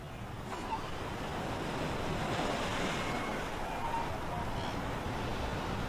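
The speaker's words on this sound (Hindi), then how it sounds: "कुछ देर बाद लहरें शांत हो जाती हैं" Ocean surf washes steadily along an African shore, a soft continuous roar of breaking waves with some wind, with a faint voice beneath.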